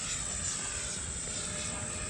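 An E-flite F-16 RC jet with an 80mm-class electric ducted fan climbs and rolls overhead with flaperons, giving a steady, loud rushing whine with a high tonal edge that holds constant throughout.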